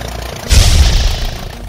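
Tractor pulling a spreader, its engine starting up with a loud low rumble about halfway through and then running steadily in the foreground.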